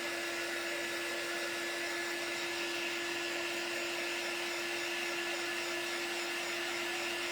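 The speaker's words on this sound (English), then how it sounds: "let me get my little heat gun" Small heat gun blowing hot air, a steady close whooshing fan roar with a constant high motor whine throughout, no voices.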